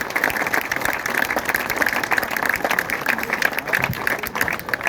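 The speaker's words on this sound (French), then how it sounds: "On l'applaudit." Audience applause for a new recruit at a professional team's season squad presentation, sustained and dense with many hands clapping steadily throughout, crowd noise mixed in.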